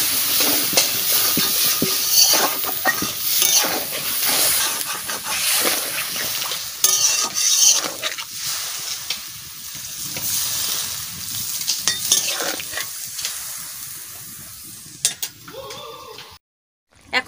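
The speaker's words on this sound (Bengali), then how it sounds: "এখন জল দিয়ে দিচ্ছি।" Papaya curry in a frying pan hisses and sizzles steadily while it is stirred, a dense close crackle running throughout, with occasional utensil clinks and a brief drop to silence near the end.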